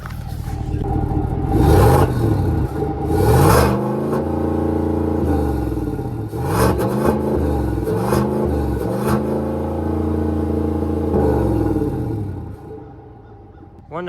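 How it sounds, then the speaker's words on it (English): Revving engine exhaust from a vehicle while a trailer carrying two non-running lawnmowers is unhooked, loud and close, rising and falling in repeated throttle blips with rumbling tone throughout before dropping off near the end. "I could hear the exhaust."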